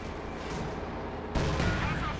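Gunfire and explosions rumble in the real-time strategy game Company of Heroes 2 as a German Panzer IV tank is wrecked, a dense continuous battle roar that swells suddenly louder partway through.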